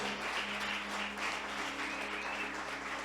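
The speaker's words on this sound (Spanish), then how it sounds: "un fuerte aplauso para el Señor" A church congregation applauds together at a service, a steady wash of many hands clapping that sounds soft and somewhat distant in the hall, sustained for a few seconds.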